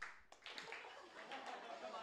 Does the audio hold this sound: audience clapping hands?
yes